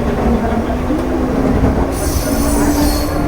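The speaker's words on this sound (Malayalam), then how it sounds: "ലോക്കൽ ട്രെയിൻ ഇപ്പോൾ ദാ ഇവിടെ ഛത്രപതി ശിവജി മഹാരാജ് ടെർമിനലിൽ എത്തിയിട്ടുണ്ട്" Mumbai local train wheels squeal loudly and continuously as the train pulls into Chhatrapati Shivaji Maharaj Terminus, a sustained metallic screech with rumbling carriages and a brighter high-pitched whine rising near the end.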